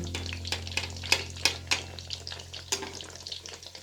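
Aloo bread pakoda deep-frying in oil until golden brown, a steady close sizzle broken by repeated sharp scraping taps of a utensil moving the pieces, with a low hum beneath.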